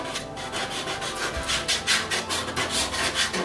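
A wooden stick rubbed across a drawing surface to make marks and smears, giving close, rhythmic scraping strokes, roughly three per second, with a dry rasping texture that repeats steadily and is heard alone.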